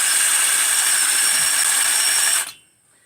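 An engine piston spins against sandpaper, giving a steady, loud, high whirring grind that holds for over two seconds and then cuts off abruptly.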